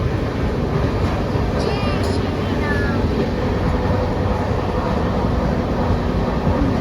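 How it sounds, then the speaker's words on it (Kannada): Steady, loud rumble of the Karnataka Sampark Kranti Express pulling into Haveri station, a continuous broadband roar from start to finish with a few faint high squeals partway through. "ಈಗ ನಮ್ಮ ಟ್ರೈನ್ ಬಂದು ತಲುಪಿದೆ ಹಾವೇರಿಗೆ"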